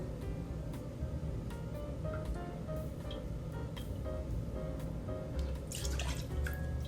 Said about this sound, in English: So I'm gonna pour in 2 full ounces of Elijah Craig.